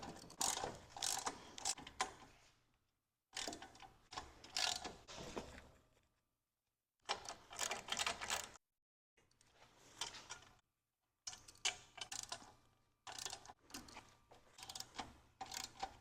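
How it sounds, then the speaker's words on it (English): Ratchet wrench clicking as bolts are loosened on an ABS 250 aftercooler stand, with several bursts of rapid close metallic ratcheting separated by short pauses, no talking. "So we're just going to loosen these bolts and straighten that out."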